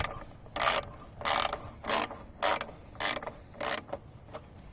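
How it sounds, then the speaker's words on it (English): A mini ratchet tightens bolts on a Kohler Command engine in a Miller Bobcat welder, giving about seven loud, quick clicking bursts in a steady rhythm, close and with no talk. "mini ratchet works wonders"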